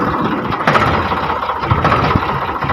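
A loud, close engine chugs steadily with a low rumbling throb and a few knocking bumps, running without pause.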